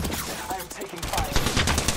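Rapid gunfire in Apex Legends, bursts of sharp automatic shots crackling in quick succession alongside other game sounds, loud and close throughout.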